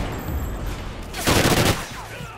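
Short burst of rapid automatic gunfire in a Call of Duty Ghosts multiplayer Domination match on the Sovereign map, a loud chattering volley lasting about half a second over low game ambience.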